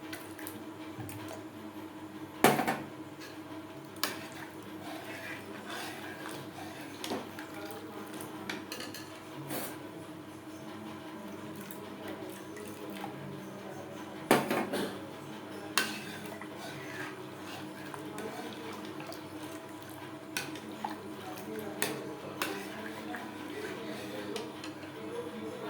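Milk curdling into chhena is stirred in a metal pot for chhena payesh, giving scattered soft clinks and scrapes of spoon against the pot, with a couple of sharper knocks, under a low background hum.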